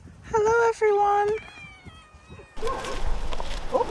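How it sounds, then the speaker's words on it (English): Stray cats in Tunisia let out several drawn-out, wavering meows up close, followed by a burst of mixed street commotion with people talking. "I've never seen so many stray dogs and cats in one place."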